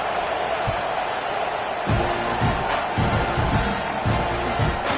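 A stadium crowd murmurs and roars steadily in an American football video game, a broad, constant wash with occasional thumps and swells, heard in the background.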